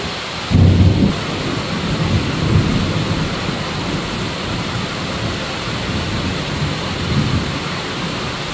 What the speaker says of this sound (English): It's actually a day, a rainy day like this